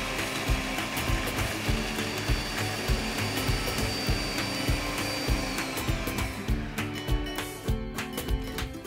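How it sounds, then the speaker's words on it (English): Kenwood MultiOne food processor blades running at speed 5 to break up biscuits, a loud continuous motor whir with rattling, clattering chunks knocking inside the bowl, alone without talk. "And now we will use speed 5 to break up our biscuits."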